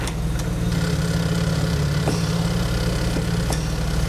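A car engine idles steadily with a low, even rumble throughout, a few faint clicks on top and no talk.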